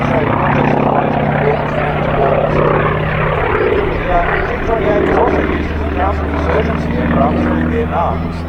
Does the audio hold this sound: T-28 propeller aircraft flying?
yes